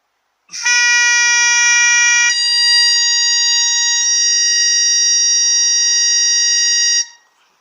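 A bagpipe chanter fitted with a slightly sharper reed sounds one loud, steady, piercing note, shifts to another held pitch after about two seconds, and sustains it evenly before cutting off.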